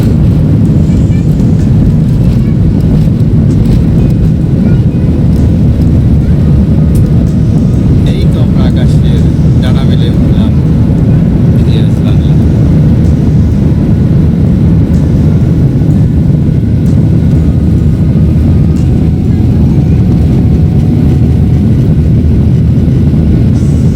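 Passenger airplane cabin in flight from Dhaka to Thailand, a loud, constant low engine and airflow roar filling the whole stretch without pause.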